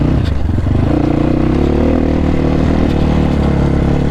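MotoPro 300 motorcycle accelerating on a ride, its engine note loud and continuous throughout with a steady rising drone and some clattering mechanical noise, no talking over it.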